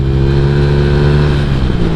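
Loud, close exhaust note from a Honda Vario 150 scooter holding a steady, harmonically rich drone under throttle, with no voices over it.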